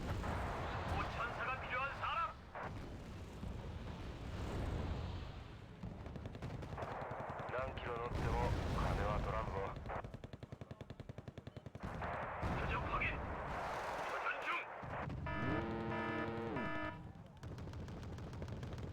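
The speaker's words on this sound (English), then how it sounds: "Where did the Patriot fire from?" A Patriot missile launches in the video game Wargame: Red Dragon, amid bursts of gunfire and rumbling blasts, heard under a person talking and followed by a tonal alert chime near the end.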